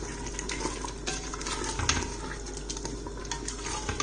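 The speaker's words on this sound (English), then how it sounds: "spinach in there. Mix it really well," Spinach being stirred into a chicken curry in a pan, the spoon scraping and the mixture softly sizzling and squelching at close range, with no voices.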